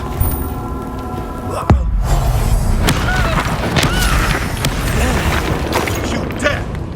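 A Bombarda blasting spell detonates in Hogwarts Legacy with a sharp, loud impact followed by a sustained rumbling crash and scattered debris-like clatter, close and dense throughout.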